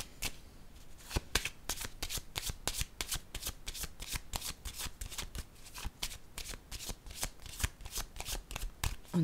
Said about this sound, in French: je vais prendre mon jeu de cartes